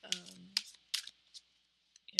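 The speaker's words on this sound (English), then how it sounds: "So I'll just shuffle these cards and we'll see what comes out today." Tarot cards shuffled by hand in a quiet room, several short papery riffles and flicks in quick succession, close and crisp, with a brief hint of voice at the start.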